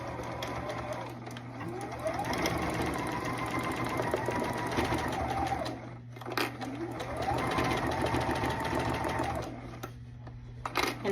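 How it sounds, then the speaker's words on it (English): A sewing machine runs steadily, stitching a bulky denim jacket seam at a normal stitch length, its rapid mechanical chatter continuous and close with a brief slowdown midway. "I'm just going to stitch this at the normal 5/8 of an inch seam allowance"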